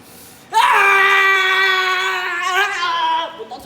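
Actors on a Filipino Squid Game adaptation set let out one long, loud, high-pitched scream that starts abruptly and holds for about three seconds before fading out.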